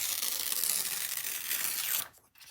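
A sheet of paper in an art journal is pinched at the bottom corner and slowly ripped by hand, a close, steady rasping tear lasting about two seconds before it stops.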